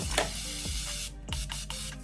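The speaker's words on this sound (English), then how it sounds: "spray your brush tip with continuous setting mist" A short hiss of fine setting-spray mist sprayed onto a makeup brush tip, followed by a few quick soft puffs and light rubbing sounds nearby.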